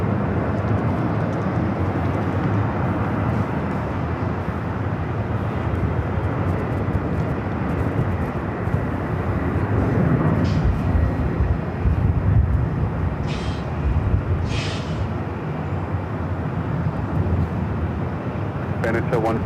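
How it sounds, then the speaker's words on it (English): A Southwest Airlines Boeing 737 MAX 8 arriving at LAX from Las Vegas gives a steady, broad jet rumble under continuous talk, with brief higher tones cutting in near the end. "Next arrival for us here on the north side is a flight coming in from Vegas. Southwest Airlines flight 2136, a 737 at MAX 8"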